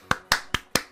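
Four sharp, evenly spaced hand claps ring out close by in under a second, each a crisp single slap with no voices.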